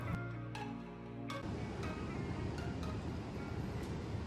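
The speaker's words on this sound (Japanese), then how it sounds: "波の音だけが聞こえてとっても静かです。 風も吹いていて心地いいです。" Ocean waves and breeze at the Sheraton Waikiki in Hawaii form a soft, steady wash of surf and wind noise heard from a distance, with a quiet voice briefly audible near the start.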